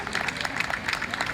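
Crowd at a football crossbar-shooting challenge applauding a shot off the crossbar, a dense steady patter of clapping from many hands.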